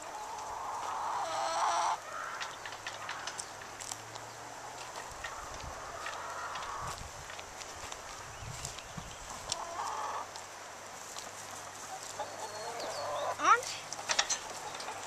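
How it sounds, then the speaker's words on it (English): Chickens and a rooster at a garden chicken coop cluck and call intermittently, mostly faint and distant, with one sharper crow-like call near the end and people talking quietly at times. "There's that rooster we were hearing."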